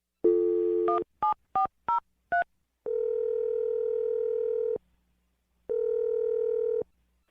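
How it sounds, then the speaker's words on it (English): A steady dial tone, then five quick keypad beeps, followed by two long ringback tones separated by silence, clear and close. "I'm going to dial her phone number right now"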